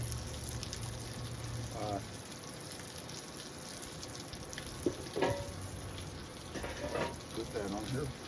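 Shrimp and biscuits cooking on a griddle, a quiet, steady sizzle with a few soft scrapes and clinks near the end.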